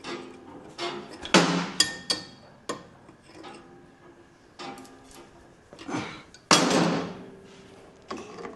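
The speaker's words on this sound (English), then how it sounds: "You can just get your adjustable spanner and just" An adjustable spanner works on suspension bushes on a Land Rover Defender, giving a handful of sharp metallic clicks and knocks spaced irregularly, with quieter ticking between them.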